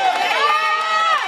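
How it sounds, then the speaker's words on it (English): A crowd at an impromptu rap battle tryout cheers and shouts loudly and close in a brief burst of overlapping, excited voices. "Make some noise for K the Specialist if K got that shit."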